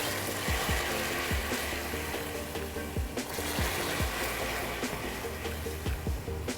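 Hot water poured in small portions into melted sugar on a medium-hot stove for gingerbread dough, giving a steady close sizzle with crackling spatters and a regular clicking or stirring rhythm, no talk.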